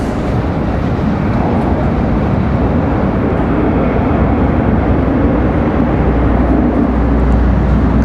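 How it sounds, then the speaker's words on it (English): A United Embraer E175 jet arrives at Washington Dulles, its engine noise a loud, constant rumbling roar with no speech. "Looks like a United E175."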